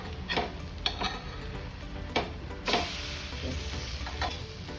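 Cabbage frying in a pan, a steady sizzle with a few sharp scraping stirs and clinks of a spatula against the metal, close and alone with no talking.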